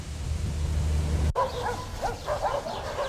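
Dogs barking and yipping on a Danube river cruise, a burst of short yelps and barks after a low rumbling drone cuts off, fairly close and repeated.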